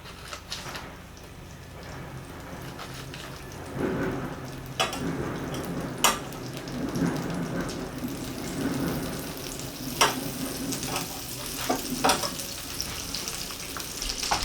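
Butter melting and sizzling in hot olive oil in a pan while a rib steak is being pan-blackened, a steady close crackle with louder bursts and light stirring clatter, no voices.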